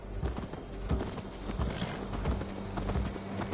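A horse in Assassin's Creed Valhalla walks with steady, fairly close clip-clopping hooves in an even rhythm over soft background ambience.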